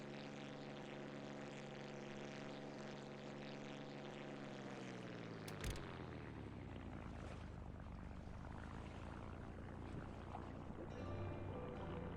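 Aircraft engine in a flight video game spooling up for pushback, a steady droning tone that shifts pitch as the throttle rises, joined partway through by a brief clunk, then a broad rushing roar.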